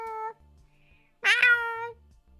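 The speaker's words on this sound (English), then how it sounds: "So the cat is angry because I also left today." A house cat meows twice, the first call short and the second longer and rising, clear and close in a quiet indoor room.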